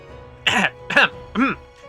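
Three quick voiced coughs in a row, close and fairly loud, the last one softer, with a faint hum underneath.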